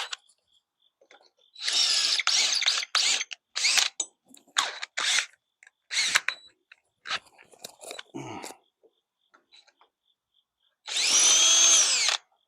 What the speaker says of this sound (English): Chuck on the drill keeps loosening up.